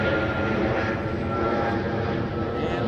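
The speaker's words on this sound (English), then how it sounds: "Jet traffic overhead." An aircraft drones overhead in a park, a steady, loud, broadband roar filling the whole stretch with no break.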